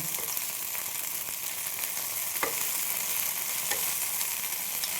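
Prawns sizzle and crackle steadily in hot oil for chilli prawns, a dense, even frying hiss close by with a few sharper pops and no voices.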